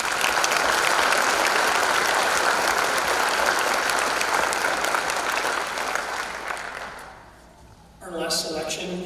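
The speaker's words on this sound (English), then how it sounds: "let's give them one more round of applause" An audience claps in a long, dense round of applause after a high school spring band concert, loud and steady before fading out, then a brief burst of sound returns near the end.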